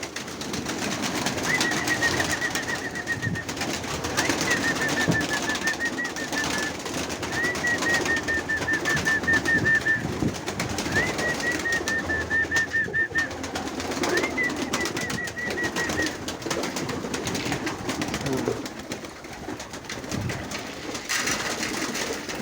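Pigeons coo repeatedly close by in short phrases over a steady rustling, hissing background.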